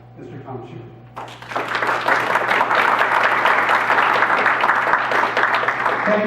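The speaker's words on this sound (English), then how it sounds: "Please welcome, with a great round of applause, Mr. Tom Chu." After a brief spoken introduction, a crowd at a political meeting on a state referendum breaks into applause that swells into a loud, steady roar of many hands clapping and holds to the end.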